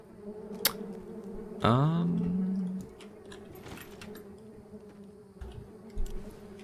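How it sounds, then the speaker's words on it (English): In the video game Outward 2, bees buzz around a giant hive in a short droning swell of about a second, rising and then sliding lower, heard over a quiet ambient backdrop. "There's actually bee sounds."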